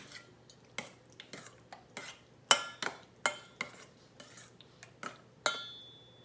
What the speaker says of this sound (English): Let me get another spoon and mix this thing together.